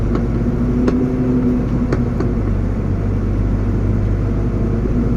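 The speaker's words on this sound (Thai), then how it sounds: "ขึ้นเกียร์หนึ่งไปดีกวาครับปลอดภัย" A vehicle engine labours up a slope in first gear, a loud, steady low rumble with a constant drone and a few faint clicks, close by and without talk.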